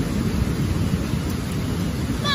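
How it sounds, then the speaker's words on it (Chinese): A night thunderstorm over Beijing sends a steady, dense roar of heavy rain and hail with a low rumble of thunder beneath, continuous and fairly loud throughout. "电闪雷鸣的时候，就感觉闪电是给灯照亮整个小区"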